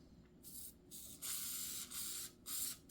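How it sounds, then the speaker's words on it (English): An aerosol can sprays a Galil rifle during cleaning in several bursts: a short hiss, then longer loud sprays separated by brief pauses, close and alone without talk. "I don't know if there's aerosol in here though."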